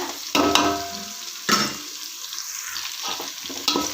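Shallots and green chillies frying in oil for a mango fish curry, with a crackling sizzle that surges at each of several stirring scrapes and eases back between them, heard up close and with nobody talking.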